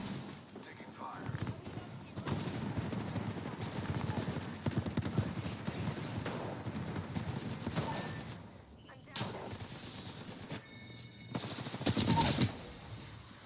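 Rapid gunfire in Apex Legends rattles in dense bursts and scattered single shots, layered with in-game sound effects and voice callouts throughout.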